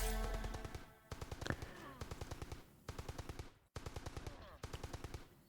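A Blip Rifle in Entropia Universe fires in rapid repeated bursts, each a quick rattling volley with short pauses between, fairly faint and steady, with no talking over the shots.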